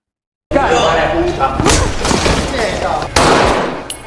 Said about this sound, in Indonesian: Eva pun langsung mengambil pistol dan menembakkannya ke anak buah Lugo